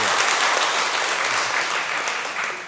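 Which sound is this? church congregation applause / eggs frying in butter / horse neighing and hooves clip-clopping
church congregation applause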